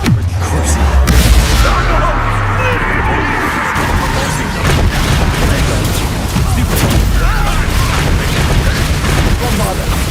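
Bombarda blasting spell explosions in Hogwarts Legacy, a heavy booming blast at the start followed by repeated crackling bangs and rumbling impacts amid battle noise, with voices in the background.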